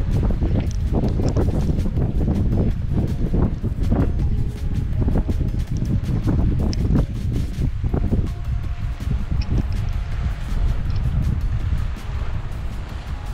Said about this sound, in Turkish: Birazcık rüzgar alıyor